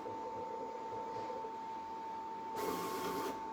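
A vinyl cutter machine hums quietly as it measures the vinyl length, giving a faint, steady mechanical whir with a constant tone. A slightly louder motor burst comes near the end.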